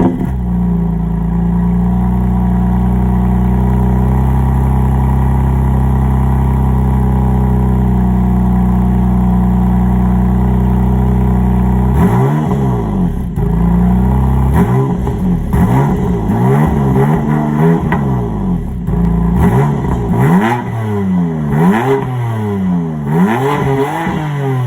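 A BMW M2 Competition fitted with an M Performance titanium exhaust cold-starts, opening with a loud, steady high idle before sharp revs sweep repeatedly up and down, close and alone.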